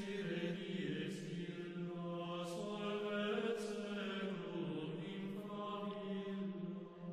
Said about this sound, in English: the Dies Irae is a 15th century Latin hymn which represents death